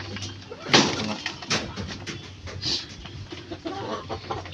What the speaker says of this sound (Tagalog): So ito mga kamanok, ito ang ating straight breed ng male sims.